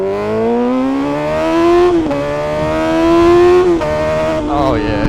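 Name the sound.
Yamaha R6 motorcycle test ride, engine revving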